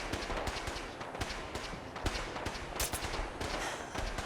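Rapid gunfire in Fallout 4, a string of sharp, loud shots cracking at an irregular quick rhythm, like a burst from an automatic weapon, with no talking over it.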